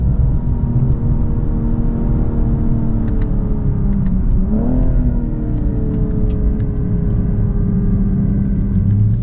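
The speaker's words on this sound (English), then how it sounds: "you not only hear each shift, but it has this deep bass and thump" A BMW M240i xDrive (G42) engine drones steadily at close range, with a brief dip and rise in pitch partway through as the ZF 8-speed automatic shifts gear, deep bass throughout.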